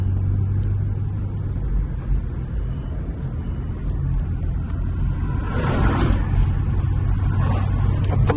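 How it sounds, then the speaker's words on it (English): Cars drive past on a road beside a pond, a steady low rumble of traffic that swells as a vehicle passes close around the middle and then fades, with no voices. "Obligatory cars going by, obscuring my view of the pond"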